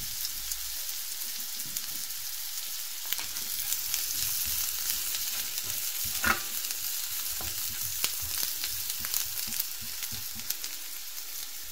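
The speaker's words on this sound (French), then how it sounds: "J'ajoute mon échalote ciselée et je laisse mijoter quelques minutes." Chopped shallot sizzles and simmers in melted butter in a pan, a steady close crackling hiss with faint scattered pops and no voices.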